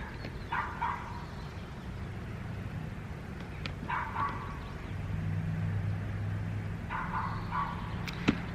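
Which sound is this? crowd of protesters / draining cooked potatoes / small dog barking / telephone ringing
small dog barking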